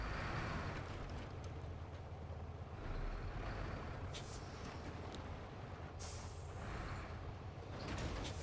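A lifted truck grinds through deep mud in low gear in the off-road driving game SnowRunner, with a loud, steady engine roar and bursts of hissing spray throughout.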